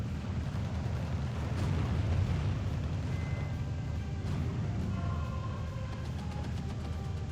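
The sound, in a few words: tank gun shot hitting a Sherman in Steel Division video game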